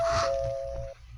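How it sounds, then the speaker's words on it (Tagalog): Doorbell sound effect in a radio drama, a single clear electronic chime tone sustained for just under a second, close and alone before fading out. "Ang doorbell?"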